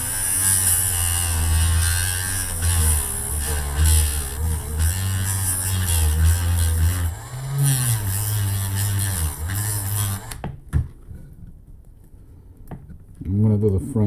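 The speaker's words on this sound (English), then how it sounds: "You can see how easy it is using the Dremel." A Dremel rotary tool cuts away parts on a Volkswagen Golf Rabbit, a loud steady high-pitched buzzing whine that runs for about ten seconds and then stops abruptly, leaving quiet handling noises.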